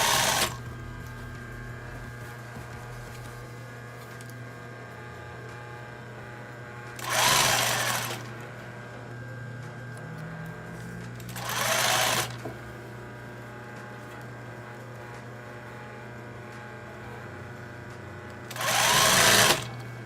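A sewing machine stitches a blouse seam one centimetre from the edge, three short loud bursts of rapid stitching separated by pauses over a steady low hum, close up.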